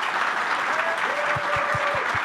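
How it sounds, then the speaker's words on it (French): An audience bursts into sustained applause, a dense crackle of many hands clapping at moderate distance, with a voice faintly audible through it. "Et ça, c'est applaudi à rompre tout."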